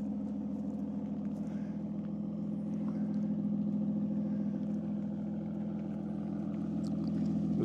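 A 2014 Aston Martin Rapide S sits idling, its engine giving a steady low rumble that stays even and fairly quiet throughout, heard alone with no talk.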